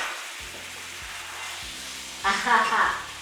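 Thick, rustic Zimbabwean-style soup is stirred in a pot, a low bubbling simmer with spoon scrapes and a louder burst of sizzle near the end, no speech over it.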